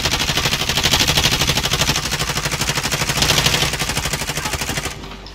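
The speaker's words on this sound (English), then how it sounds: "It sounds like they're getting shot from over here." Rapid automatic gunfire in the Warzone video game, a dense, loud stream of shots firing nearly continuously for about five seconds before cutting off abruptly.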